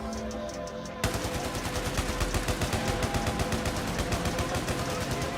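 Rapid automatic gunfire in the World War I shooter Battlefield 1 starts abruptly after a second and continues as a steady, loud rattle of shots to the end.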